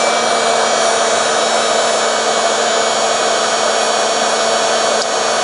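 Heat gun, a high-powered device with a motor, running off a SUAOKI S370 portable power station, giving a loud, steady blowing whir with a constant motor hum throughout and no talk.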